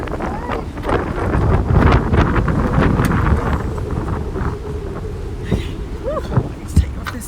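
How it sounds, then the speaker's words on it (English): Strong blustery wind buffets the microphone outdoors beside a van-converted bus, a continuous rumbling roar that swells and gusts throughout, with brief louder thumps near the end. "it is blustery out there today"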